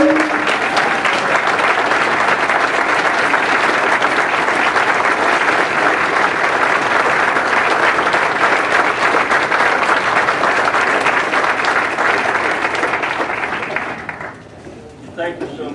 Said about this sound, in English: I do appreciate your applause